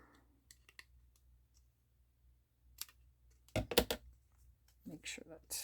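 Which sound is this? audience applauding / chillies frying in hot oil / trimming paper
trimming paper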